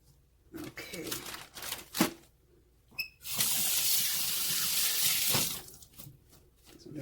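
Tap water runs steadily for a couple of seconds while hands are rinsed after cleaning raw chicken in a kitchen sink, with brief handling clatter before and after and a voice nearby.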